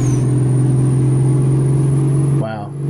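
A Cat V12 engine in a Kenworth W900 truck from American Truck Simulator holds a steady, loud, droning rev, then drops off abruptly near the end as a voice begins talking over it.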